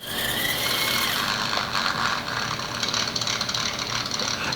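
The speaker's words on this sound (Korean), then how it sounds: "차 엔진 소리를 집어넣었어요." A buzzy, synthetic-sounding engine drone from a small toy RC car's built-in sound effect runs continuously at close range, steady and slightly rattly, with no voices.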